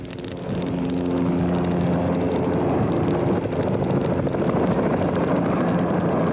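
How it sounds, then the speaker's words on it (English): A helicopter's heavy rotor drone rumbles steadily and loud on a mountain ridge, building in the first second and holding close with wind-like noise. "a helicopter flew by."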